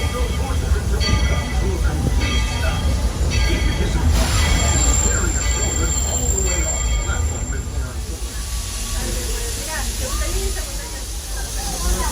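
A Walt Disney World Railroad train at the Magic Kingdom rumbles along the tracks with squealing wheels and a steady hiss, loud and close, with a voice faintly underneath.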